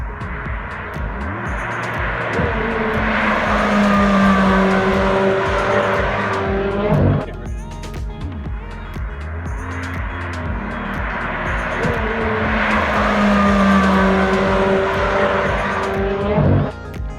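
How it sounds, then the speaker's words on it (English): A high-revving Chevrolet Corvette C8 Z06 mid-engine test mule screams past twice, rising and falling in pitch with tire squeal, no turbo sound, loud and close, no voices. "there isn't any turbo sound coming from that test mule"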